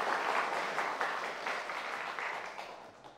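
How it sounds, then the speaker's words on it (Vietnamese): Studio audience of supporters applauding and cheering for quiz contestants at a televised Vietnamese academic competition, a steady dense wash of clapping that slowly fades, with no talk over it. "chúng tôi một lần nữa muốn nghe những tràng pháo tay cổ vũ động viên cho các bạn thí sinh của chúng ta từ các bạn cổ động viên"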